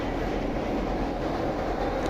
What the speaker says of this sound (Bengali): হাওড়া মেদিনীপুর লোকাল যাচ্ছে